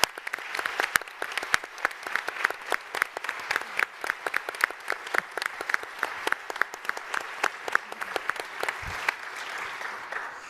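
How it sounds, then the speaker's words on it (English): Crowd at a law school conversation event gives a round of applause, sharp individual claps standing out in a steady, fairly close patter that continues evenly for about ten seconds without talk. "would you mind standing up and getting a round of applause?"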